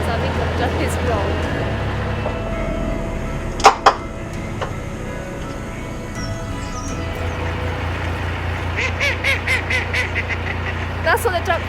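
A duck quacks near a narrowboat on a canal, several short honking calls in a rapid series late on, heard over a steady low engine hum.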